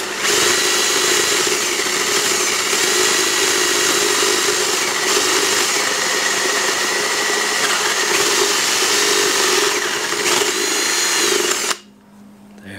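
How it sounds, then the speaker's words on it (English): A power drill drilling into wood for a birdhouse whines steadily at close range for about twelve seconds, a constant grinding motor drone that cuts off abruptly at the end. "I'm just gonna drill it."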